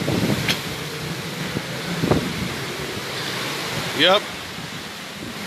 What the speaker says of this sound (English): it's wind blowing hard